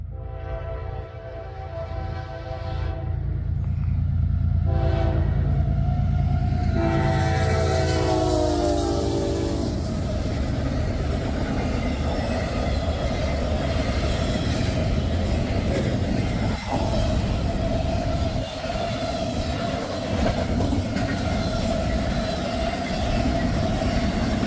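An intermodal freight train passes close by, opening with a loud sustained horn blast and then a steady, heavy rumble of rolling wagons with clanking and rail noise that continues to the end.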